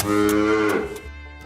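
A cow lets out one long, close moo that slides downward before it fades, with nothing else heard around it.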